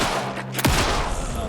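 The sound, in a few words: bolt weapon fired in the video game Alan Wake II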